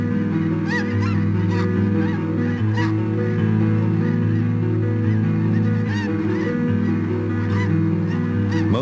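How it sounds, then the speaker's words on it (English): A flock of snow geese honks in a salt marsh where they winter, many overlapping calls forming a dense, continuous chorus, loud and close with no talking. "Snow geese arrive for the winter."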